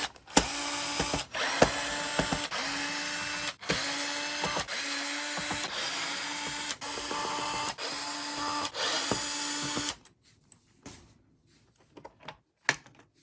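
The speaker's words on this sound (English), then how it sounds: "First thing you'll wanna do is pull out all the screws." A powered screwdriver whirs in repeated bursts as screws come out of the bottom plate of a Bissell Pet Hair Eraser Turbo vacuum, loud and close with brief pauses, then stops and gives way to a few faint clicks and handling sounds.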